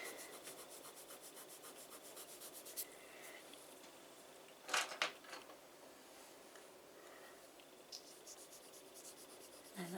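Pastel stick rubbed across paper while drawing peacock feathers, soft repeated scratchy strokes in a quiet close rhythm, with a brief louder scrape midway.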